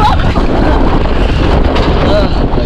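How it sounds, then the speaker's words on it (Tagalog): Strong wind buffeting a microphone on a boat during a catch-and-cook fishing trip, a loud continuous low rumble and roar that fills the whole stretch. "Hangin yun."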